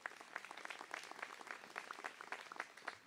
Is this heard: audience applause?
yes